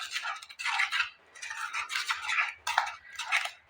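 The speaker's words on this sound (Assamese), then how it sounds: "এতিয়া মই এইখিনি ভালদৰে মিলাই ল'ম" A spoon stirs and scrapes a peda sweet mixture around a bowl, a steady close swishing and clinking in uneven strokes, with no voices.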